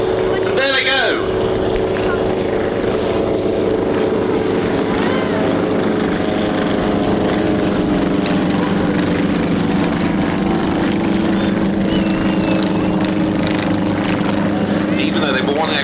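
A de Havilland Mosquito and an Avro Lancaster make a final propeller pass at the East Kirkby airshow, a loud, sustained piston-engine drone with humming harmonics, joined by a brief sharp burst near the start as a voice talks over it.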